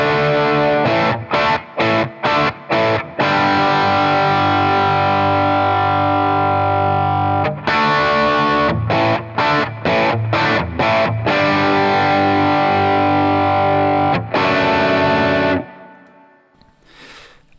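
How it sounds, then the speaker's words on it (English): An electric guitar loops through a Boss Katana amp in its 100-watt mode, giving loud distorted chords with rhythmic chopped stabs, then long held chords, before fading out at the end. "Okay, so that's a 100 watt setting."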